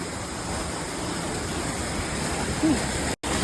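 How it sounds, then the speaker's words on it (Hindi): Steady rushing water pours from the channel of a gharat, a traditional Himalayan water mill once used for grinding flour, a continuous broadband splash heard close and alone, broken only by a brief dropout near the end. "घराट से आ रहा है अच्छा पानी"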